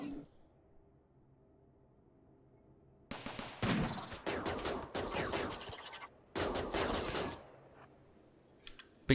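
Colonists shooting in RimWorld: after a few quiet seconds, rapid bursts of sharp game gunfire break out in several clustered volleys, with a lone shot at the very end.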